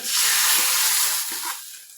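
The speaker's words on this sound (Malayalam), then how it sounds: "കടുവും കൂടെ വറുത്ത് ചേർത്തു" A sharp burst of hissing sizzle as hot fried mustard-seed tempering hits sambar, loud at first and then fading over about two seconds.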